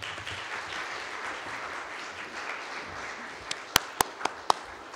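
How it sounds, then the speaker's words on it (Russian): Audience applause at a closing awards ceremony, a steady wash of many people clapping, with a few sharp, loud individual claps standing out near the end. "Аплодисменты"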